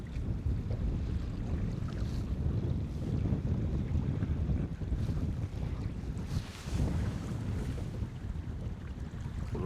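Strong wind buffets a fishing boat on open water during a windy winter catfishing trip after a cold front, a steady loud roar of gusts and microphone wind noise with waves lapping underneath throughout.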